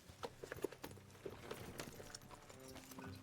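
A horse's hooves clip-clop in the video game Red Dead Redemption 2, a quiet, uneven run of soft thuds mixed with faint background game sounds.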